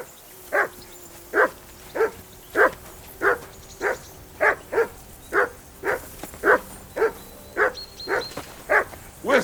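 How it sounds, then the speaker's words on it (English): Repeated dog barks from Kingdom Come: Deliverance II, about fifteen evenly spaced sharp woofs in steady rhythm, close and fairly loud over a quiet outdoor ambience with no talking. "That barking was a pain in the ass."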